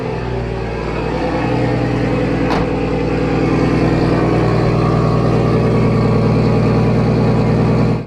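Drift car engine idling steadily and loud, then rising slightly as it pulls away to warm up, with a brief click near the start and a constant close rumble throughout.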